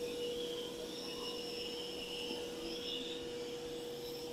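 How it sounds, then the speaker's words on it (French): A robot vacuum cleaner runs its suction motor at full power with its mops raised, a steady even whine with a constant hum throughout and no talk. "Il a mis son moteur d'aspiration à fond."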